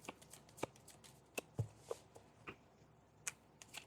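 Tarot cards are shuffled and drawn in a quiet room, a series of soft, crisp riffles, slaps and flicks at irregular intervals, close and fairly faint.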